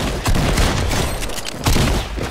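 Rapid gunfire in the video game Fortnite, loud repeated bursts of sharp shots with heavy low thumps, close and aggressive, coming in clustered volleys with no voices over them.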